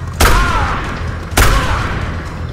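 Two loud revolver shots in a video game, spaced about a second apart, each a sharp crack with a ringing tail over steady background hum.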